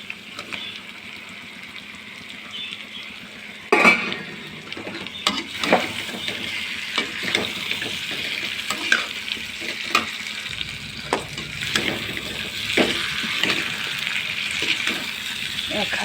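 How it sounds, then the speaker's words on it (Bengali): Jackfruit and potatoes stir-frying in a kadai for a Bengali prawn curry, a steady oily sizzle with a loud clatter as the jackfruit goes in, then repeated scraping and knocking of a spatula against the metal pan. "এঁচোড়টা দিয়ে দিয়ে বেড়ে।"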